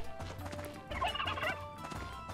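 Turkey gobbling among game fowl in Life is Feudal, a rapid warbling burst in the middle of the clip over steady background ambience, with no talk.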